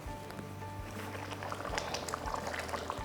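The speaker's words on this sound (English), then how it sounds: "I'll be leaving this to come to a rolling boil." A pot of ground beef tomato pasta sauce comes to a rolling boil, bubbling and popping steadily up close, with soft blips growing busier toward the end.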